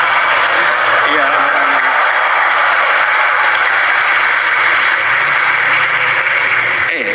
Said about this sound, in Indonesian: Kenapa tepuk tangan ini?